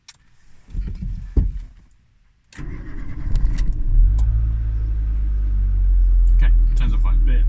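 A Renault Twingo starts from cold: a short crank bursts into the engine catching, then settles into a steady, loud idle rumble close by, with a few clicks and knocks over it and a person speaking at the start.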